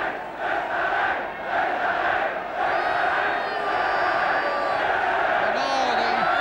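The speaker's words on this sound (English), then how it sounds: "the racecourse crowd letting their team know that they are here" A Welsh football crowd at the Racecourse ground during Wales v Austria keeps up a loud, sustained roar and chant across the whole stretch, with massed voices swelling and rising in pitch toward the end.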